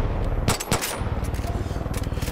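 Rapid bursts of automatic gunfire rattle through a Far Cry 5 firefight, with loud cracks early on giving way to a steady, pulsing clatter of shots.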